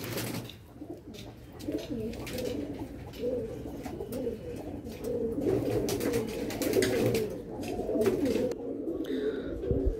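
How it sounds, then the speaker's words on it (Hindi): Madrasi pigeon cooing in repeated soft, throaty phrases, close by, with someone talking at times over the calls. "ये एक मेरा एक मद्रासी कबूतर है"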